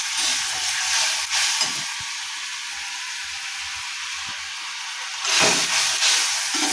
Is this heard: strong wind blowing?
no